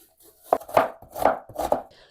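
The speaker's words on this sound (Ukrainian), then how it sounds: "Цибулинку наріжу кубиком" A knife dices an onion sharply on a cutting board, four or five quick, close strikes in an uneven rhythm, with no talking.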